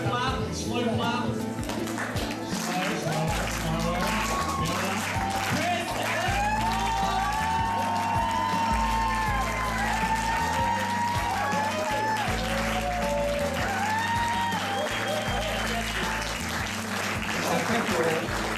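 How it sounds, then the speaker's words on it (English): Wedding guests clapping along over loud, thumping dance music, with whoops and shouts through a continuous party din; the claps are buried in the music rather than standing out. "Alright, start with a slow clap."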